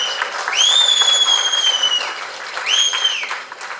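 At a Tamil film music launch for Hit List, a crowd claps while two long, piercing, whistle-like hollers ring out one after the other above the applause.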